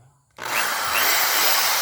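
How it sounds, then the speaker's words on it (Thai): Electric drill whirring steadily close by, starting abruptly after a brief quiet moment and holding a continuous high-pitched motor whine. "อันนี้เป็น สว่านนะครับ"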